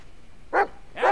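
A dog in the game Blair Witch gives two short breathy pants or huffs, close and moderately loud, separated by a half-second pause over a quiet background.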